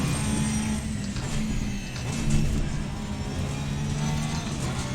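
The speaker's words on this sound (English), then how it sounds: "But it really makes fantastic sounds. Road noise, engine noise." A race car in the Assetto Corsa Competizione sim game, played on a Fanatec DD1 wheel, gives a steady droning engine note under road noise, loud and continuous with slight pitch shifts and no talk.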